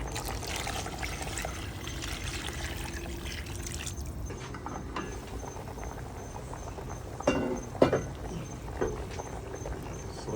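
Water poured into a pot of pumpkin-based soup with dumplings, a steady faint trickling and pattering that runs throughout, with a few louder splashes near the end.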